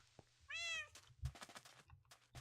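A cat meows in Minecraft, one clear rising-falling meow near the start, followed by game sounds and footsteps at moderate level.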